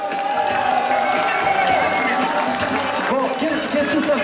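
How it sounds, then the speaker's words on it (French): A crowd cheers and applauds Nico, the winner, at a lively gathering, a dense, steady wash of noise with voices mingled throughout. "Donc on applaudit Nico, le vainqueur!"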